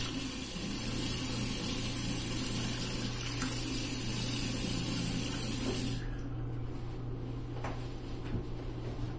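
Cold tap water running steadily into a sink for a rinse after shaving with a mild Gillette Blue Tip razor, a constant close rushing that continues throughout with a few soft knocks.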